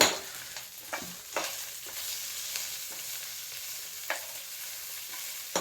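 Mutton sambar masala fries in a pan with a continuous soft sizzle, while a spoon stirs it in short scraping strokes every second or so.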